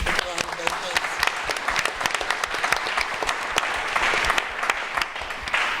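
Steady applause from a crowd at a community event in Bay City, Michigan, dense clapping throughout with a few sharper claps standing out, fairly close and sustained for several seconds.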